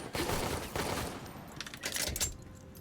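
Rapid handgun fire rattles in the Hunt: Showdown video game, with quick, dense bursts of shots that stop near the end.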